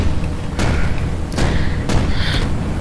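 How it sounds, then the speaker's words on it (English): Explosions in a game or animation come as a dense, loud roar with repeated heavy booming thumps in quick succession. "Oh yeah, nice explosions going on"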